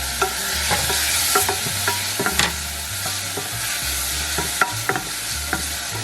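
Diced tomatoes hit hot tempered spices in a pan with a sharp sizzle, followed by steady frying hiss and repeated scraping stirs of a spoon, close and fairly loud, with no talk.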